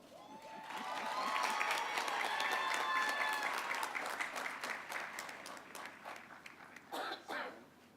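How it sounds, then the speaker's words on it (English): Audience applause at a 2019 College of Education and Integrative Studies commencement ceremony, a broad sustained wash of many hands clapping that swells, holds steadily, then thins and tapers with a few late bursts near the end. "Please recognize her with applause"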